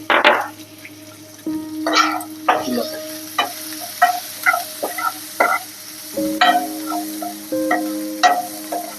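Coarsely crushed onions fry and are stirred in a hot pan, with repeated scraping strokes and bursts of sizzle at an irregular rhythm, close and clear with no voices.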